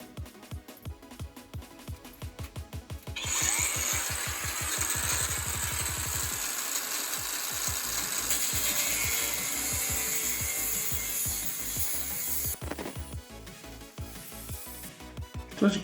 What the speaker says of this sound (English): we're using a grinder here to cut out the I/O shield